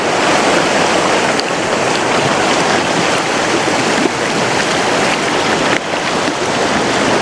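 The fast-flowing Kauaeranga River in New Zealand rushes loudly and continuously, a dense broadband roar of water close by with some wind buffeting the microphone.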